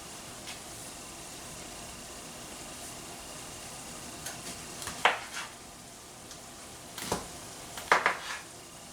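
Onions sweat and sizzle softly in a pan, a steady faint frying hiss with a few clinks of a utensil against the pan.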